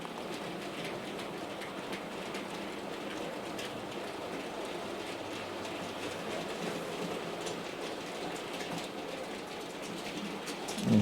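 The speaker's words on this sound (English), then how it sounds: "what you should be doing now is just catching this loco in the distance" Hornby R3548 model locomotive running on its track, a faint continuous rolling rumble with light clicking, steady and fairly distant, ending with a slight rise as it nears.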